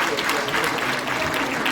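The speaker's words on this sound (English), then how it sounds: "We need to clap for him." An audience at a political gathering applauds steadily for a former party General Secretary, a dense wash of many hands clapping that stays loud and even throughout.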